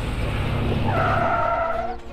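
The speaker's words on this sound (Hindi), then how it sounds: "गाड़ी बंद पड़ गई है।" A car's tires skid and squeal as it comes to a halt and stalls, a steady loud screech with a high whine that trails off near the end.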